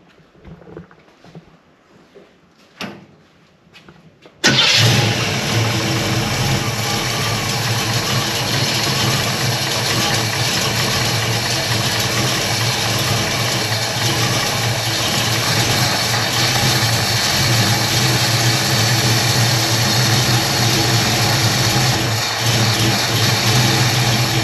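Car engine fitted with a Holley Street Warrior carburettor cranks after a few quiet shop noises, fires abruptly and settles into a loud, steady idle running close by for about twenty seconds.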